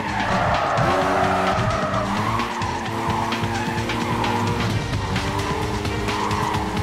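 A racing car skids through corners in Need for Speed Carbon, a tuner car's tires squealing loudly over a steady engine roar, with sustained screeches rising and falling across the run.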